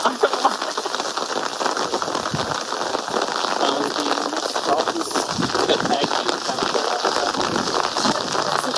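Heavy rain falls steadily across an outdoor reality-competition challenge site, a dense continuous hiss with scattered louder patters, fairly close and loud throughout.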